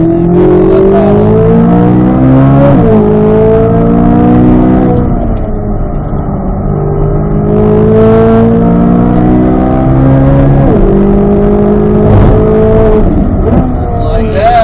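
A 2024 Corvette Z06 with the Z07 package at full throttle on a race track, the engine loud and close, rising through gears with clear shift dips and continuous road and wind roar, with a voice speaking over it.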